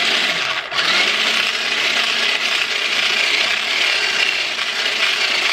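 Eggs and sugar whisked together in a bowl, a steady dense whirring that runs continuously and loud from start to finish with no pauses or talk.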